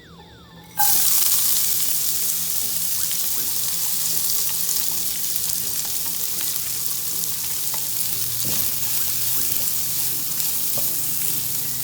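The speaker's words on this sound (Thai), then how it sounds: "ผมใส่น้ำมันเล็กน้อยนะครับ ก็กระเทียมสับแล้วก็พริกแดงสับลงไปเลยครับ" Chopped garlic and red chili hit hot oil and burst into a loud, dense sizzle that starts abruptly and holds steady, crackling close up without any talking.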